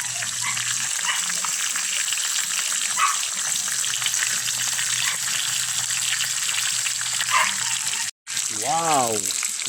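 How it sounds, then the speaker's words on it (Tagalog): Tilapia fish frying in hot oil, a steady dense sizzle running throughout at close range, with a brief cutout near the end and a voice speaking over it at the close. "Crispy ang ating pritong tilapia."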